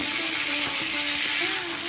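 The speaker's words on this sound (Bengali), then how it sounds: "ওইদিকে দেখুন কড়াই কুঞ্জিটা কষা হচ্ছে" Ivy gourd (kundri) frying in a wok, a dense close sizzle with faint tonal mechanical whine and light scraping over it in a short burst.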